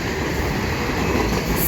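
Freight train with a Union Pacific boxcar rolling past close by on the Dundas Subdivision in London, Ontario, a loud, continuous rumble of wheels on the rails.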